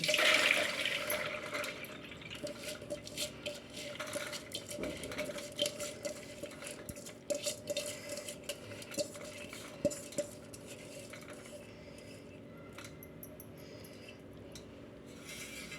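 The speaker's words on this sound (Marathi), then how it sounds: "आता मी काय करणार आहे चाळण्यात सगळं काढून घेणार आणि गाळून घेणार आहे" Soaked chana dal and rice are tipped into a sieve to drain, with water gushing and trickling through and light metallic clinks of the utensils, fairly quiet and close.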